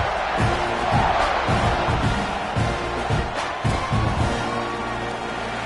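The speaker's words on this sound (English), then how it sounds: "this crowd is feeling themselves after that last drive" Football stadium crowd at an LSU versus Texas A&M game roars after a kickoff, a loud, continuous cheer with rhythmic low thumps underneath and faint commentary mixed in.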